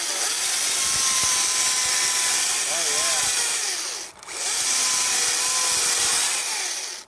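A battery chainsaw with a short carving bar cuts into wood, a loud, steady whine with a brief dip near the middle, then back at full speed.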